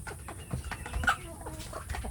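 Soft, scattered clucks from free-range village hens come in short bursts over a low farmyard murmur, fairly close and not very loud.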